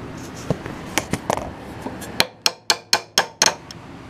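Pins are tapped down into the side rails of a door frame in a home basement shop, a series of sharp metallic hammer taps, scattered at first and then several evenly spaced, ringing blows close by.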